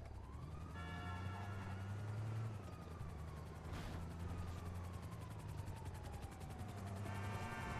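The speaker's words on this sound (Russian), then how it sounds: "А что за вертолет?" GTA 5 game audio with a steady low engine drone and rising, falling siren-like tones, a helicopter rotor hum sitting under the mix.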